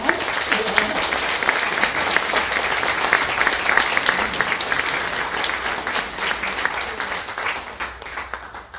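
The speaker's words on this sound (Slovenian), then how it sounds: "Gospodu županu se zahvaljujemo in mu še enkrat zaploskamo" An audience at a Sežana self-help group's 15th anniversary event applauds the mayor, a full, dense round of clapping that stays strong for several seconds and then begins to fade.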